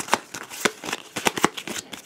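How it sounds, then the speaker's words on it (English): A small stack of game cards is shuffled by hand at a tabletop, a series of quick, crisp riffling bursts and taps in an uneven rhythm, close and fairly quiet. "I'm going to shuffle those."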